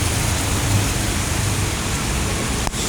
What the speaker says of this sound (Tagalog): Hindi pa kayang sugurin itong ulan na ito.